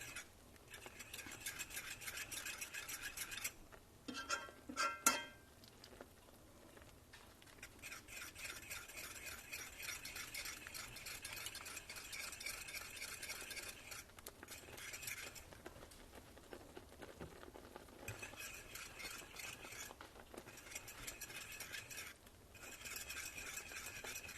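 A fork stirs a thickening mushroom gravy in a pan, giving faint, steady scraping and soft patter with a few louder clinks early on, quiet and without voices.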